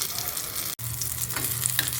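Masala chilies sizzle and crackle in hot oil in a pan as they are turned over, a steady close frying hiss with one brief dip before it resumes strongly.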